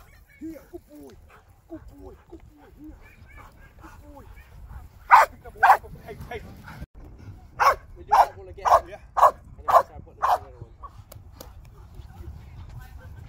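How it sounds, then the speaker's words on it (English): A dog at a K9 training facility barks in a loud, close series of about eight sharp barks, some in pairs, after a stretch of softer whimpering and yips, with people speaking in the background. "Crazy dog."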